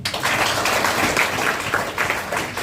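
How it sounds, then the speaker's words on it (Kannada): A seminar audience claps together in steady, dense applause that stays loud and even throughout, with no pauses or rise and fall in volume. "ಆ ಪಾರಿವಾಳಕ್ಕೊಂದ್ಸರಿ ಚಪ್ಪಾಳೆ ಹೊಡೀರಿ"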